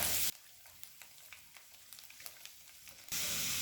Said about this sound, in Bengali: রসুন কুচিটা 30 থেকে 40 সেকেন্ড হাই ফ্লেমে ভেজে নেব।